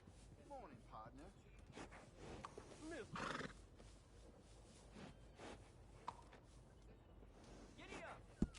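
A horse in Red Dead Redemption 2 gives several high, wavering neighs and a few hoof clops, heard close, with a loud sharp knock near the end.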